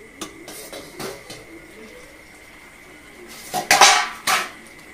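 A lid comes off a pot of simmering potatoes and brinjal for a hilsa curry, giving a couple of close metallic clanks and a brief ringing scrape near the end after quieter light knocks.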